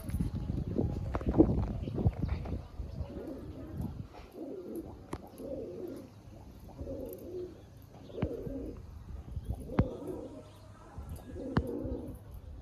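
Pigeons coo in repeated low, throaty phrases at a steady rhythm, with occasional sharp clicks and some louder rustling at the start.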